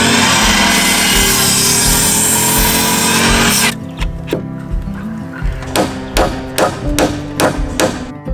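A loud, continuous power saw whine cuts through wooden rafter blocking for several seconds, then stops, followed by a run of sharp knocks and taps.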